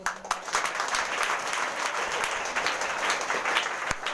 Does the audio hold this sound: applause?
yes